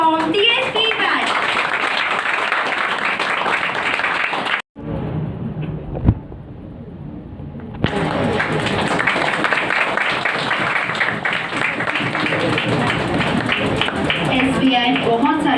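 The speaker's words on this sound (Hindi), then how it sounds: "तो जोरदार तालियों के साथ स्वागत करते हैं साहिल पटेल फ्रॉम DSP बैच।" Loud, dense clapping from a crowd welcoming a student to the stage at a coaching institute event, continuous except for a brief drop to near-silence midway before the applause resumes.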